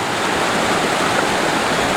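A loud, steady roar of rushing water from a waterfall close at hand in Sairam Ugam National Park, Kazakhstan, with no voices.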